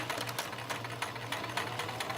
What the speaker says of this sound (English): Take it over to the sewing machine. Press the foot down. Back stitch. And stitch forward.